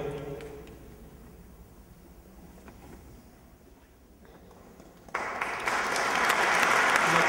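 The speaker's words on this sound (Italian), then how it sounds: "Un applauso veramente che merita per Luigi Cattaneo" Applause for local artist Luigi Cattaneo, who donated a painting as a special jury prize at a boxing society gathering in Lumezzane. After a quiet murmuring stretch the audience's clapping breaks out abruptly, loud and sustained to the end.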